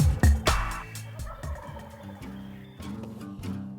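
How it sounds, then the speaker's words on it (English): Several wild turkeys gobble in rapid overlapping bursts during a Kansas spring hunt, loud strong calls up front then fainter answering gobbles spread through the woods, with no talk. "we're hearing a bunch of turkeys"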